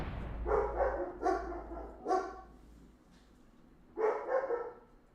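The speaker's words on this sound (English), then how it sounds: "Doggos!" Dogs at home bark in short bursts, a quick run of three or four loud, close woofs followed by a pause and then another pair of barks, with a low hum running underneath.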